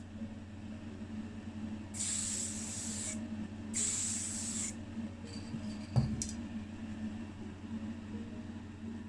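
Two steady hissing bursts of spray primer hit a 1982 Pontiac Firebird SE scale model, each lasting about a second, followed by a few faint clicks and a soft knock.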